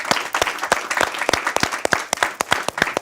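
An audience at a soundtrack listening party applauds, with dense, brisk clapping that continues steadily throughout.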